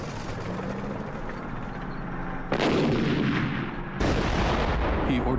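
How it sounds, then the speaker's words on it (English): Artillery barrage from the 1967 Six-Day War in the Sinai, a continuous rumbling roar punctuated by two heavy booming blasts that swell and sustain, dense and loud with no voices. "He orders his artillery to make the earth shake."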